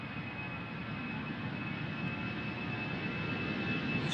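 EasyJet Airbus jet airliner on the move at Amsterdam Schiphol runway 36L, a faint, distant, constant engine rumble with a thin steady whine on top, alone with no speech.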